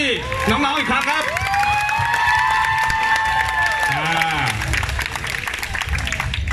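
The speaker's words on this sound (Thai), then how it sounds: "ปรบมือให้น้องๆอีกครั้งครับ" Outdoor crowd applause and cheering in a Bangkok public park for a youth band from the Bangkok Noi electricity learning center, clapping under a loud amplified voice with lingering musical tones and children's shouts.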